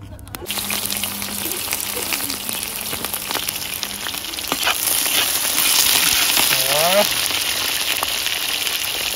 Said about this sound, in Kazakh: Жуамызбен сәбізімізді қуырып аламыз.